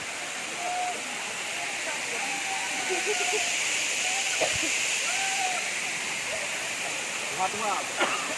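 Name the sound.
Serule waterfall in East Aceh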